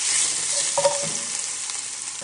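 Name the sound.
bacon frying in pot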